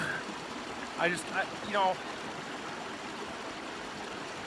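A river stream flows steadily near a campsite at Spirit Lake, its broad continuous rush filling the background while someone speaks briefly over it.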